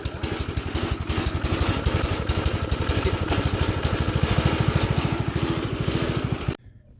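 A Sears garden tractor's small engine idles steadily with a rapid, even chugging pulse, close and loud for several seconds before cutting off abruptly.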